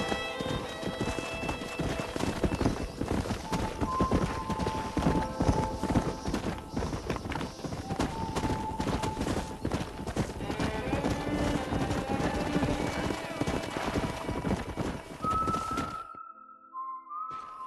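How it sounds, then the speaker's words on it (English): Horses in the Red Dead Redemption video game gallop with steady, rapid clip-clop hoofbeats and loud whinnies, accompanied by whistling, before the hooves cut out abruptly near the end, leaving a brief tonal sound. "We got some fine horses."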